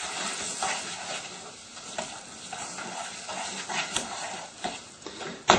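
A pan of chocolate melting on the stove is stirred, giving a soft ongoing hiss with intermittent scraping and clinking of utensil against pan, close but fairly quiet, with a louder knock at the very end.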